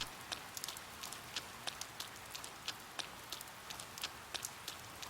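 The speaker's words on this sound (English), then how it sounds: "We got several days of rain here" Rain falls in the video game Persona 4, a soft steady patter with scattered sharper drops landing at irregular intervals, faint and alone.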